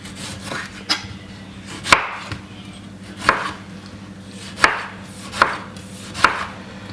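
Kitchen knife chopping tomato on a board while making macaroni and cheese, about six sharp evenly spaced cuts roughly a second apart, close over a steady low hum with no talking.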